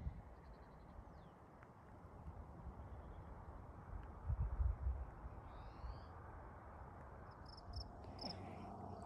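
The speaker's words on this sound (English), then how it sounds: "You can hear all the birds," Outdoor ambience on a hike in Indian Hills, Colorado, with faint chirping birds and crickets over a low rumbling background, with a few brief rustles partway through.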